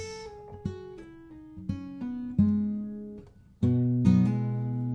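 A quick electric guitar riff from a song, notes plucked and pulled off in rapid succession, some ringing out before the next phrase; played alone, clear and close.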